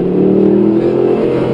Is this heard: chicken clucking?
no